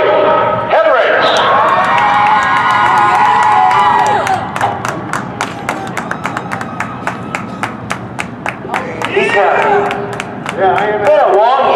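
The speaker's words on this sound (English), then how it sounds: "how about a round of applause for our Pure Stock feature winner" At Seekonk Speedway, the crowd cheers and applauds the Pure Stock feature winner. Loud cheering and shouting is heard first, then rapid, sharp claps come through, while a voice speaks over the noise.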